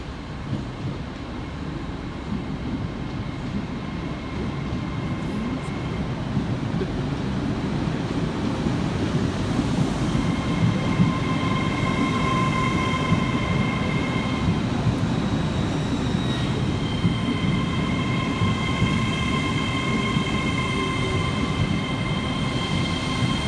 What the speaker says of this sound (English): Arriving next into the station is 802-205, working the 1638 Transpennine Express service from Liverpool Lime Street through to Newcastle.